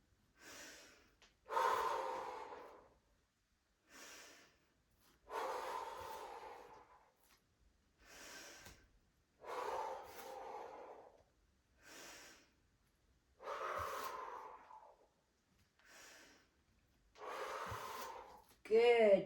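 Heavy, rhythmic breathing during an exercise routine, with about eight forceful gasping inhales and audible exhales spaced a couple of seconds apart, close to the microphone and heard alone.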